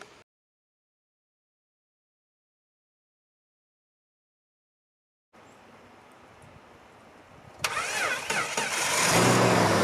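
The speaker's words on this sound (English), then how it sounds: "Well, there you go, she started up." An old Jeep engine cranks and starts after sitting for three months, catching into a rising, increasingly loud run that builds toward a rev at the end, following a long stretch of silence.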